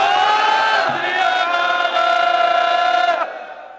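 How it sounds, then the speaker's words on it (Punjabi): A large Sikh crowd roars a jaikara war cry in unison, a loud, sustained chorus of massed voices holding for about three seconds before cutting off and trailing away. "ਜੋਸ਼ ਦੇ ਨਾਲ ਜਕਾਰਾ ਬੁਲਾਓ, ਬੋਲੇ ਸੋ ਨਿਹਾਲ"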